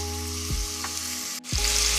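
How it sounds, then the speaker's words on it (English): Steak searing in olive oil in a Dutch oven, a steady close sizzle running throughout with a brief dip as the meat is moved. "We're going to be searing our steak on each side."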